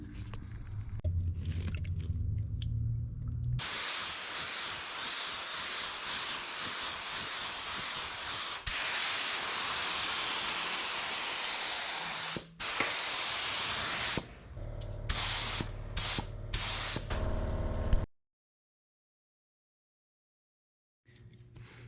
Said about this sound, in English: I'm gonna put it on a spray gun and shoot like a final coat on the dashboard